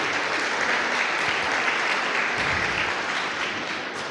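A church congregation in Maturín bursts into sustained applause, a dense, even wash of many hands clapping that tapers slightly toward the end.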